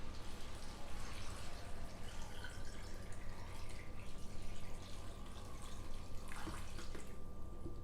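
Water runs steadily into a pot of potatoes for loaded potato soup, a continuous close splashing stream with a faint tonal ring, no talking over it.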